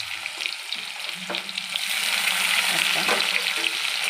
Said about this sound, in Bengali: ওই তেলের মধ্যে আমি 5 ফোড়ন দিলাম, ফোড়ন কেটে রাখা পেঁয়াজ দিলাম